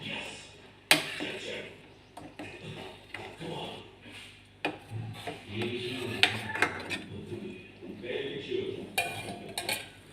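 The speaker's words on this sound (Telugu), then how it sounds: "ఇప్పుడు 1/2 టీ స్పూన్ మసాలా వేసుకుంటున్నాను. ఒకసారి కలుపుకుందాం." A spoon stirring egg curry in a pot after half a teaspoon of masala goes in, with scraping and clinking of metal against the pot, a sharp knock near the start and kitchen clatter throughout.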